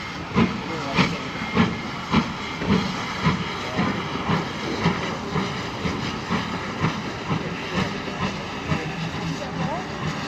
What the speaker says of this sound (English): You just can't beat a steam locomotive, can you?